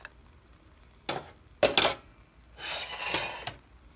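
Cooked Belizean rice and beans scraped and spooned into a baking dish, with a few clinks and scrapes of a utensil against the dish and a longer scraping shuffle, close and fairly quiet.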